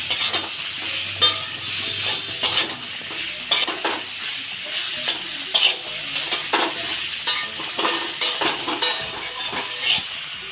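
Bitter gourd and sweet potato stir-fried with fenugreek greens in a pan, village style, with repeated spatula scrapes and knocks over a constant loud sizzle, close up and rhythmic, no speech.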